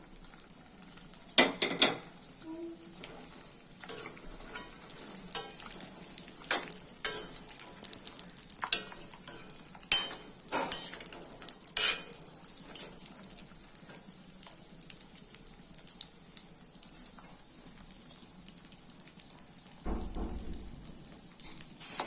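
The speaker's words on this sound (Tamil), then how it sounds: "முந்திரி திராட்சை நல்லா தாளிச்சிட்டோம்." Cashews and raisins fry in ghee in a large pot for rice payasam, with a steady close sizzle and repeated scraping stir strokes, alone without talk.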